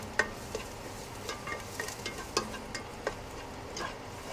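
Garlic, onion and ginger sautéing in a pan for chicken soup, a soft, low sizzle broken by scattered light scraping and stirring clicks, fairly quiet and close, with no talking.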